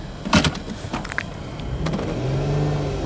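A 2008 Chrysler Sebring convertible engine revs up after a few clunks and clicks near the start, its tone rising and holding steady toward the end, close by with no speech.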